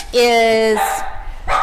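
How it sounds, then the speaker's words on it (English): A dog barks once, close and loud, in a dog-friendly workplace, followed by a short bit of speech. "We are a dog-friendly workplace, so if you hear some dogs barking, that's why."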